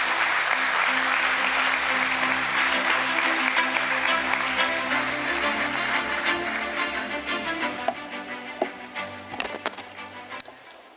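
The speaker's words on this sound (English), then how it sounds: "Let's welcome him with an applause" Audience applause at the Pine Labs Limited stock listing ceremony, a dense, sustained clapping that holds steady for most of the stretch before thinning into scattered individual claps near the end.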